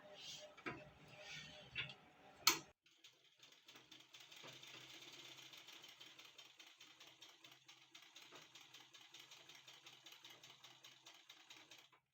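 Sewing machine stitching a fabric strip onto the neckline of a homemade kurta sewn from a saree, running as a steady rapid ticking chatter for about nine seconds after a brief spoken word and a sharp handling knock.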